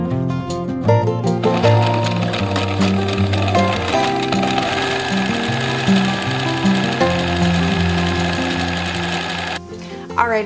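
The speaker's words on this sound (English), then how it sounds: "put the whole square through my sewing machine and do those edges" A sewing machine stitches the edges of a stretchy fabric swaddle blanket square, a loud continuous rapid mechanical whirring with slight speed changes, pausing briefly near the end.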